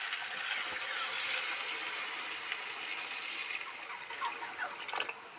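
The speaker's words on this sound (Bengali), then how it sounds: "জল একটু বেশি পরিমাণেই দেব।" Water poured generously into a spicy sea crab curry in a cooking pot, giving a continuous rushing, hissy splash that stays fairly even before easing off near the end, with no voices.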